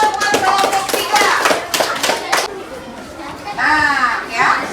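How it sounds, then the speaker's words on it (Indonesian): Children in a classroom clap for a group presentation, a short bright burst of clapping mixed with young voices chattering, fading and then picking up again briefly. "Beri tepuk tangan buat kelompok 3."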